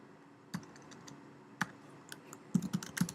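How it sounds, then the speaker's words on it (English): Sparse keyboard key taps at first, then a quicker burst of typing near the end, close and quiet in a still room. "and then just type"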